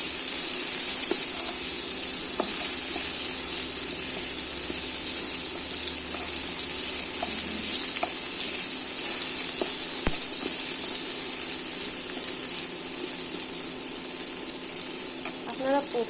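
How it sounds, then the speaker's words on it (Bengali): Tomato fries in hot oil with a little salt, a steady close sizzle that runs unbroken throughout, with faint stirring clicks and one sharp tap partway through. "টমেটোটা নরম হওয়া পর্যন্ত আমি ভেজে নেব।"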